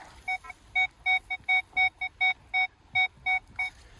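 Repeated clean tonal beeps from a metal detector in a field, about a dozen short, evenly spaced pulses sounding close and clear with no talk.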